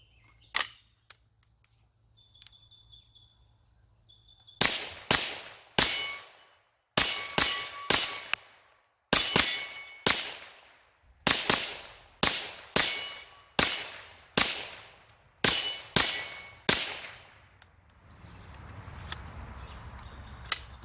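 A GSG-5 .22LR rifle fires Browning BPR ammunition in roughly a dozen sharp, loud cracks. After a quiet start the shots come in a quick, slightly uneven rhythm, then stop.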